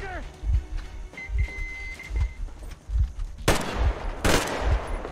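Gunfire in the video game Metro Exodus: a run of dull, evenly spaced low thumps, then two sharp loud bursts near the end, with game effects layered in the background.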